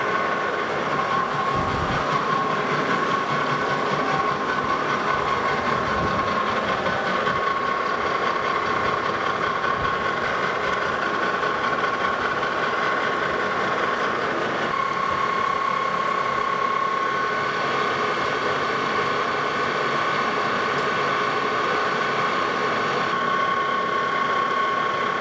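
A lathe turns a threaded disk for a spindle sander, taking a cut below its current dimension; a loud, continuous mechanical whir with a steady tonal whine and gritty cutting rasp runs unbroken throughout.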